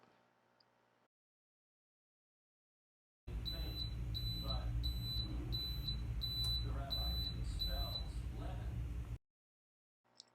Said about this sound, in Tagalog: It will rest for about an hour, and then the machine will beep.